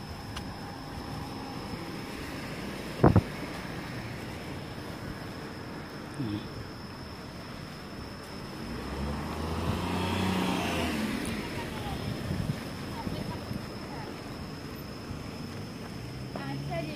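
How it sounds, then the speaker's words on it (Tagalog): Cars and motorbikes pass along a road near a mall at dusk, engines rising and fading at moderate distance over a steady hum of insects, with a sharp click early on and people talking nearby. "Madaan sasakyan."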